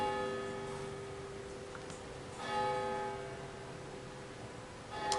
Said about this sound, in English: excuse the church bells